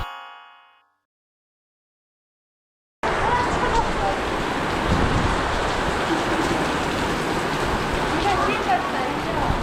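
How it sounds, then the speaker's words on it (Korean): Heavy rain pouring down during a diving trip at Moalboal, a dense steady roar of downpour that starts abruptly after a moment of silence and continues loudly. "폭우가 내립니다"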